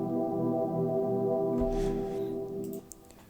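Arpeggiated procedural synth pad with reverb, rich sustained layered tones swelling then cutting off, leaving faint ticking in the tail, played alone.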